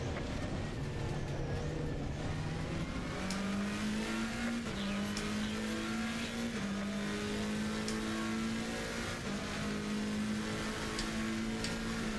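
Race cars lap the Red Bull Ring in Assetto Corsa Competizione, a continuous engine drone rising and falling through gear changes with steady revving and occasional tire noise, no voices.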